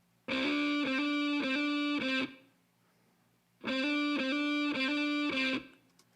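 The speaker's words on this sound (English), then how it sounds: "that's the really kind of overdriven, distorted, or distortion-y sounding guitar" Overdriven, distorted electric guitar plays two loud, sustained rhythm phrases that are separated by a short gap, with strummed chords that ring out thick and saturated. No voices are heard over the guitar.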